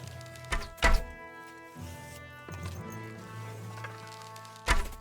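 Arrows striking an archery target in Kingdom Come Deliverance II, with two sharp thunks near the start and another at the end over a steady low game ambience.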